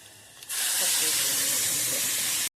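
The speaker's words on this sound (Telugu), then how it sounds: "తాలింపు ఇలా ఎర్రగా వేగాక కొద్దిగా ఇంగువ వేసుకోండి" Hot tempering for mango dal hits the pot with a sudden loud sizzle. A dense, steady hiss follows and holds for about two seconds, then cuts off abruptly.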